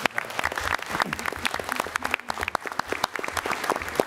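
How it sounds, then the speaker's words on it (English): A crowd at a school board meeting bursts into steady, enthusiastic applause, many hands clapping together in a dense patter that continues for several seconds. "let's give them a round of applause"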